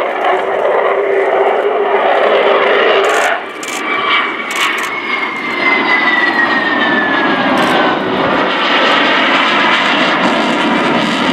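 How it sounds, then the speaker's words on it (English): A Su-27 Flanker with two Lyulka AL-31F turbofans roars loudly and continuously during an air display at RIAT 2018, a broad engine rumble with a descending whine as the jet passes. "a tribute to the engine performance of the aircraft, the two Lyulka, or now Saturn,"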